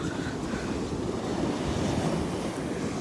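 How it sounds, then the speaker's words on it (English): Large ocean waves break and surge up a sandy beach at high tide, forming a loud, continuous roar of surf with steady wind noise on the microphone and no pause in the wash. "the waves are so big"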